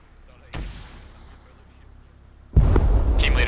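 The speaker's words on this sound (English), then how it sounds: "Take the shot." A gunshot in the military shooter Arma 3: one sharp, loud report with a rolling boom, followed by a second heavier blast with a sustained rumbling tail, close and unaccompanied by talk.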